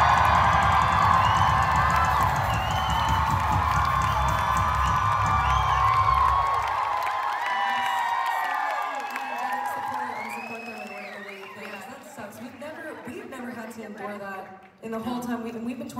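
A concert crowd at the Boulder Theater in Boulder, Colorado, cheering loudly for several seconds with whoops and shouts, then fading as the roar dies down and a voice speaks over the scattered remaining calls.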